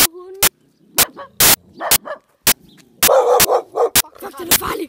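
Two dogs bark in loud, sharp, close bursts with short gaps between them, some yips mixed in, while people talk between and over the barks.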